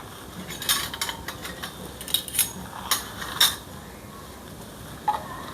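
A utensil stirs tomato buttermilk curry in a pot, making a few scattered metallic scrapes and clinks close by. They sit over a steady low background hiss, with the clearest taps clustered in the first few seconds.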